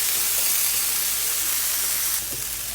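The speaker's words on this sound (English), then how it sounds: "Listen to that sizzle when we throw that right on there." Marinated cheesesteak meat slapped onto a hot surface, hissing in a loud, steady sizzle close up for a few seconds, easing slightly near the end with no talk.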